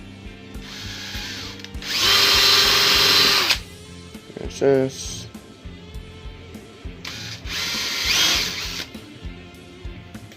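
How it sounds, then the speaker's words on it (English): A power drill with a 4mm bit whirs in two loud bursts, drilling holes through wood up close, with a brief spoken remark and some clattering between. "we're gonna need a 4mm drill bit for that"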